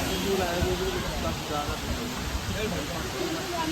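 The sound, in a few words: Neer Garh waterfall flowing in Rishikesh forest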